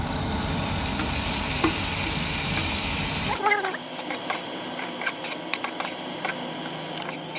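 Chopped tomatoes dropped into a pan of frying ginger and garlic for egg curry: a loud sizzle at first, then the hiss drops off and gives way to scattered stirring clinks, with a voice talking nearby.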